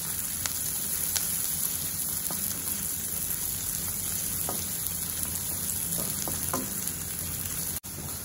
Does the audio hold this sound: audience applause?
no